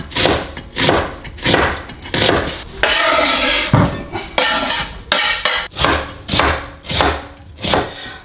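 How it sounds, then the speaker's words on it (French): Onions halved and sliced into strips with a knife on a board, loud close thuds in a steady rhythm with short crunching slices between strokes. "on va maintenant émincer nos oignons. Donc en deux et puis ensuite en lamelles."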